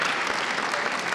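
Brief burst of audience applause at a Colorado Courts in the Community event at Fossil Ridge High School, a dense, even wash of clapping throughout.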